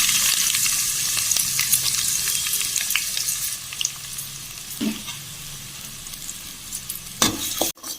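Finely chopped onions fry in oil with cinnamon and cloves, a close, steady sizzle with soft crackles and a few knocks of a stirring spoon against the pan.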